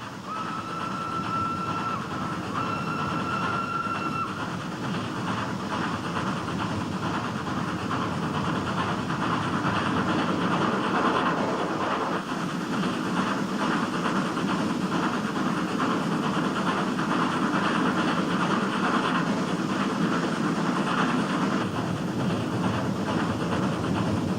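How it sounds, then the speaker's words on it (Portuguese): A rack railway train descends a steep mountain line toward Madras in southern India, its cog wheels gripping a toothed rail between the tracks. A steady, loud rumble and clatter runs throughout, with a brief whistle-like tone early on. "Na parte mais íngreme da descida, rodas dentadas sob o trem agarram uma grade colocada entre os dois trilhos."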